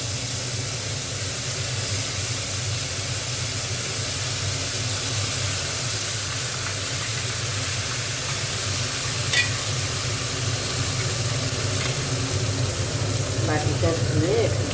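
Masala with black cumin and turmeric frying steadily in a pan while being stirred, a continuous close sizzle with occasional scraping of the spoon, and faint speech-like sounds in the background.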